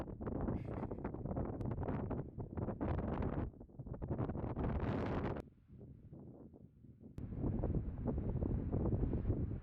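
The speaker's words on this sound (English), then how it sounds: "It's just a little windy." Gusty wind buffeting the microphone in loud rumbling bursts, dropping briefly to a quieter lull before picking up again.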